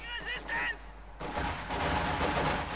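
Game gunfire from a Company of Heroes 2 two-versus-two match, a burst of rapid shots and crackling rifle and machine-gun fire following a brief honk-like tone.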